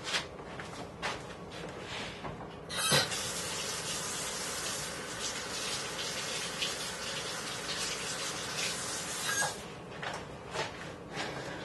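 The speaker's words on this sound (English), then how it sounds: "I'm going to go ahead and wet the brushes" Makeup brushes are wetted under a running tap, with a steady, close hiss of flowing water spraying and gushing over the bristles throughout, plus a few light knocks.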